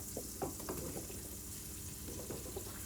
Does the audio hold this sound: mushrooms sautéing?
yes